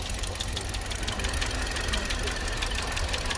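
A 2017 Hyundai Solaris with a 1.4-litre engine idling under an open hood, a steady mechanical rumble with fast, even ticking, close up and continuous with no talk.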